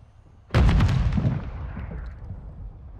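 Incoming gunfire during an alley gunfight hits as a sudden loud, close blast of rapid shots that rolls into a long echoing rumble fading over a couple of seconds.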